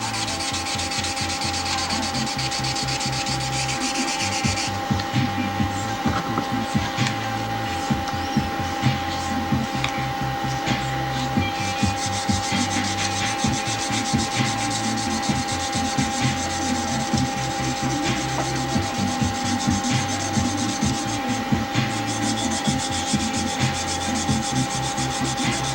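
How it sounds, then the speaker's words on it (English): Sandpaper rubs back and forth on a model airplane propeller in steady, close strokes, a rhythmic scratchy sanding that continues for the whole stretch over a faint mechanical hum. "I just have to put some sanding paper on it and try to sand it off."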